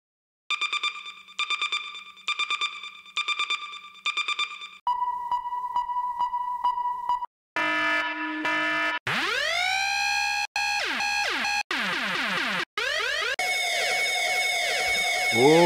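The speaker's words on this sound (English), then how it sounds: "a reggae soundboy sound system effect sounds" Reggae sound-system effect loops for speed garage play one after another: repeated bursts of beeping tones, a steady pulsing tone, then sweeping, siren-like rising and falling wails and zaps, loud and electronic with no talking.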